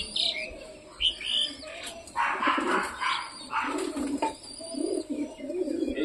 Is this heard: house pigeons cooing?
yes